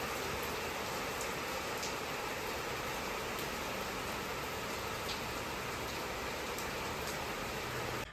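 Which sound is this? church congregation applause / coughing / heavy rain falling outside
heavy rain falling outside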